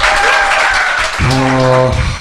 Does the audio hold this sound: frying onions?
no